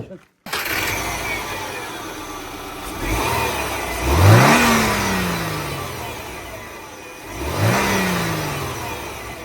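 A car engine with a modified engine bay starts, then revs twice, each blip climbing sharply and slowly falling back to a steady idle, loud and close, with a voice briefly talking.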